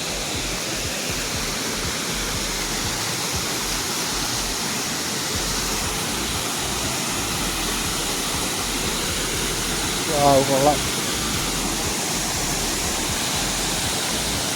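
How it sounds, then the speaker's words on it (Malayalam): The Chattambi (Peruvanchanakkayam) waterfall in the forest of Kottayam roars as a dense, steady, close wash of falling water. A brief spoken word rises just above it near the end. "പെരുവഞ്ചനക്കയം അല്ലെങ്കിൽ ചട്ടമ്പി വെള്ളച്ചാട്ടം എന്നൊക്കെ പറയുന്ന ഒരു വെള്ളച്ചാട്ടമാണിത്."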